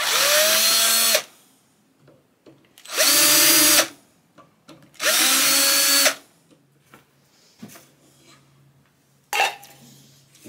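A power drill unscrewing parts off a guitar, whirring in three loud, sustained bursts of about a second each, separated by brief pauses and followed by light clicks, taps and a short final spin.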